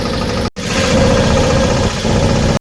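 A tractor engine idling close by in a village farmyard, a steady mid-pitched rumble with a brief dropout near the start, then a continuous even chug with no talking.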